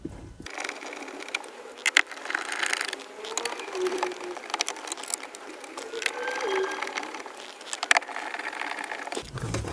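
Small bolts ratcheted back into a 2012–2014 Jaguar XF dashboard panel during a wireless CarPlay install, giving close, repeated mechanical clicking and whirring bursts with brief pauses and no talk.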